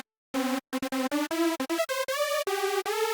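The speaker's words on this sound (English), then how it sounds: "And most leads are a supersaw" A detuned unison supersaw synth lead built in Serum for hardstyle plays a quick staccato melody of bright, buzzy notes that step up and down in pitch, loud and dry with no other sound.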